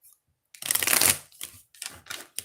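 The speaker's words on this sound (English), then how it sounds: "thank you for your patience while I do the shuffle action" Tarot cards are shuffled close up in quick riffling bursts, one long rustling sweep followed by several shorter flurries with brief pauses between them, and no talk.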